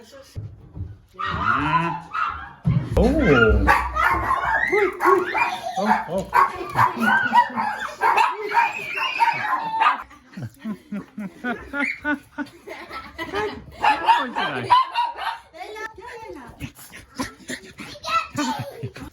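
Poodle puppies and dogs yap and yip in short, high bursts, close by and fairly loud, mixed in with a child's chatter and adult voices talking through most of the stretch.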